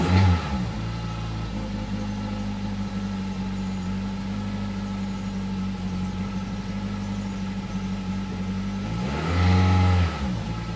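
A car engine making strange noises, a steady mid-range hum running throughout with a louder revving surge near the end, fairly close and with no talk.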